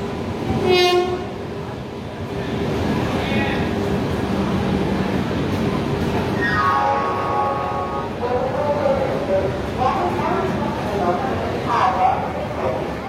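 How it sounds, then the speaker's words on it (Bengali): The Purba Express (Howrah–New Delhi) arrives at platform 4 of Asansol station: a train horn blasts near the start as it rolls steadily past, rumbling and clattering, with further horn-like tones and voices in the background. "আসানসোলের 4 নম্বর প্ল্যাটফর্মে চলে এসছে পূর্বা এক্সপ্রেস"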